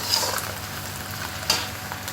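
Onions fry in a pan for an egg curry, giving a steady close sizzle with a few soft clicks and stirring scrapes, and no voices.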